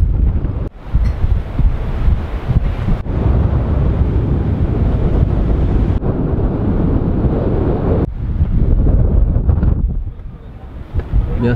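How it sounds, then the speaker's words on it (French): Strong wind buffets the microphone high on top of a bell tower in Piran on the Slovenian coast. A loud, steady roar with gusty rumble continues throughout and briefly eases near the end. "On va réaffronter les vents."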